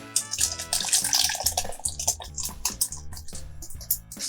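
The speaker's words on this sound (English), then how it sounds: "we're gonna pour it into our food processor" Heavy cream and buttermilk poured from a container into a food processor, a steady close liquid splashing and gurgling with uneven surges, heard alone without talk.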